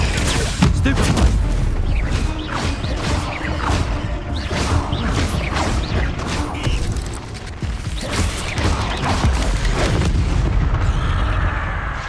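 Spell blasts and impacts boom repeatedly in a Hogwarts Legacy duel, dense crashing bursts layered over game music and shouted incantations, loud and continuous throughout.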